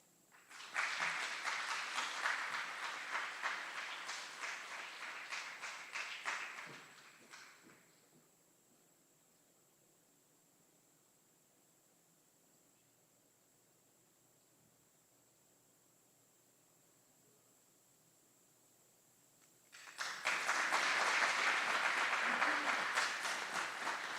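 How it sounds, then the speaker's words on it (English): Applause from the audience at a military advanced training graduation at Fort Eustis, a steady burst of many hands clapping for several seconds, then a long quiet gap before a second strong round of clapping begins. "Please give them a round of applause."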